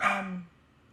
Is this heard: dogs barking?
yes